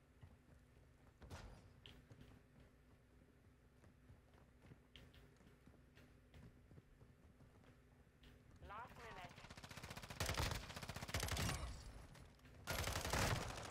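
FSS Hurricane submachine gun firing in Modern Warfare II multiplayer, with bursts of rapid automatic fire in the final seconds, louder toward the end, after quieter footsteps and game noise.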